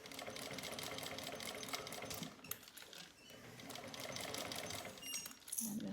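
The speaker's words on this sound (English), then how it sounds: "it sews right over that and encases the piping" A sewing machine fitted with a piping foot stitches over fabric-encased piping, giving a quiet, steady mechanical whir with a brief pause midway before it starts up again.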